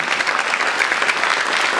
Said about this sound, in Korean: 우리 힘찬 감사의 박수 전해주시기 바랍니다